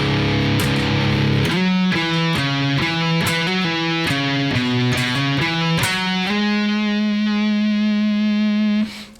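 A distorted electric guitar plays a doom metal riff from open E: repeated heavy chord stabs and slides, then a long sustained chord that rings out and is cut off at the end.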